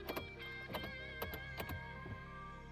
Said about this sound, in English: let me shut that window off